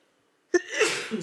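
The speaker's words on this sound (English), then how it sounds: "I just sneezed" One close, sharp human sneeze bursts out after a moment of silence, followed by a short breathy tail.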